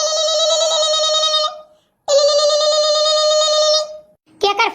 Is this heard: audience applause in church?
no